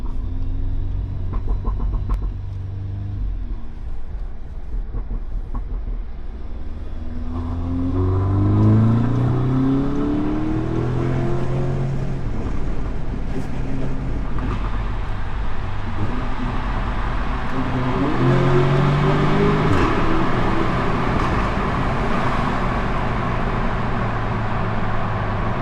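A tuned Audi S3 Stage 1 with a Milltek exhaust pulls hard through the gears, its engine note rising in two long revving sweeps with a shift between them, loud and close, the exhaust rumbling steadily underneath.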